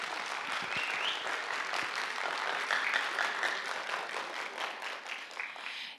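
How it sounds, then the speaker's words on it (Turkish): An audience in a school event hall claps steadily for a student presenter coming on stage, a dense, sustained round of applause lasting throughout and tapering slightly at the end. "Kuvvetli alkışlarınızla sahneyi kendisine bırakıyorum."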